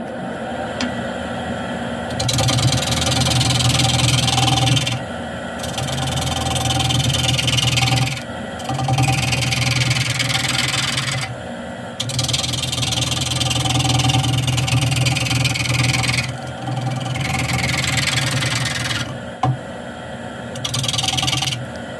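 A wood lathe turns a piece with a steady motor drone, while repeated loud bursts of tool cutting and scraping against the spinning wood rise and fall close by, with no talk.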